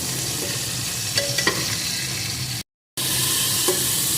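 Vegetables seasoned with salt and turmeric fry in a pan with a steady sizzle, joined by a few brief stirring scrapes, no voice, briefly cut to silence near the end before the frying resumes.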